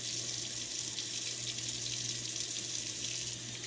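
Tap water running steadily into a sink as potatoes are washed under it, a constant close hiss with no talk over it.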